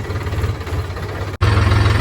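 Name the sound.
tractor engine running with rotavator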